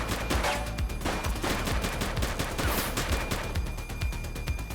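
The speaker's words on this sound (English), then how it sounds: "He's shooting!" Dense, sustained gunfire fills a police shootout in the video game The Precinct, rapid overlapping shots and bursts hammering on loudly for the whole stretch with no pause.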